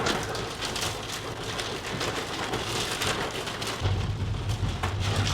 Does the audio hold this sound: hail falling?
yes